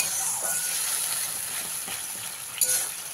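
A paste of ginger, green chilli and tomato fries in a pan with a soft, steady sizzle and occasional light stirring. The sound is close and moderately quiet, and a sharper clatter comes near the end.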